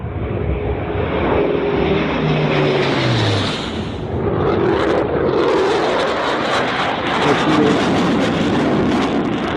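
An MD 400 RC model airplane flies past, its steady engine drone loud and continuous, rising and shifting in pitch as it passes, with no talk.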